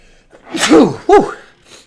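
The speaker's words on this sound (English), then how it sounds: "Great sneeze." A single sharp human sneeze close by, a quick intake followed by a loud burst, heard alone with no talk around it.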